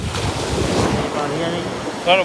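Sea waves wash onto a beach at a seaside outing, a continuous broad rush mixed with strong wind buffeting the microphone, with a brief higher sound near the end.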